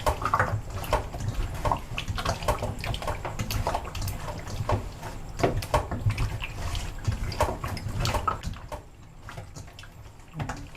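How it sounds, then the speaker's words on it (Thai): Running water splashes steadily over pork ribs being rinsed in a kitchen, a close, continuous wash with faint drips and light handling sounds, no one speaking. "แล้วก็ล้างด้วยน้ำเปล่า"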